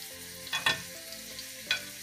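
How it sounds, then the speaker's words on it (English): Onions and carrots frying in olive oil for a ragu, a quiet sizzle with two short bursts of stirring or spoon scraping against the pan. "We fry a little bit of olive oil, we add on some onions, some carrots,"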